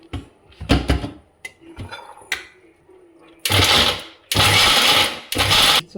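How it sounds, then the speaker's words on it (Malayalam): A mixer grinder grinds dates with rice in a home kitchen, running in three loud buzzing bursts of about a second each after some clattering and handling noises. "അതിനെ നമുക്ക് മിക്സിയിലിട്ട് അടിക്കണം"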